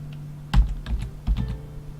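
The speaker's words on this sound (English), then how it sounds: "So let's type them in here." Computer keyboard keystrokes as names are entered, two clusters of close, thumpy clicks over a low steady electrical hum.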